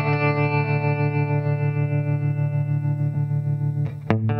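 Electric guitar through a Boss GT-1000 placed in a tube amp's effects loop, a sustained chorused, slightly distorted chord ringing steadily before a brief string noise near the end, close and loud without speech.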